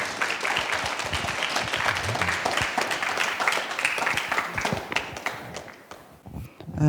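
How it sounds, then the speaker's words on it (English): A warm round of applause from an audience at a talk on plant-based diet, steady dense clapping that runs for several seconds before thinning out and fading near the end. "let's give a warm round of applause to Ms. Kan"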